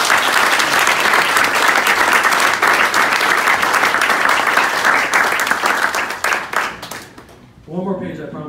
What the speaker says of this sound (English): Big round of applause for Dr. Levitt.